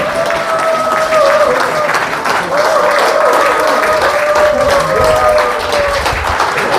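Sustained, steady audience applause at a lecture and gathering in a hall, with dense clapping filling the room throughout and a faint tonal hum underneath.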